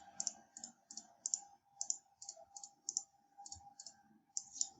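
A computer mouse clicks again and again while working in drafting software, with quick close, quiet clicks in an irregular rhythm over a faint steady hum.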